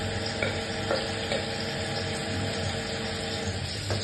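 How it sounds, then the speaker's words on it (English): Onions brown in a pan with a steady, close sizzle, broken now and then by soft stirring scrapes; no one talks. "So I'm gonna add my onions here and let it brown it. Let it cook till it's brown. Stir a little bit so as it browns."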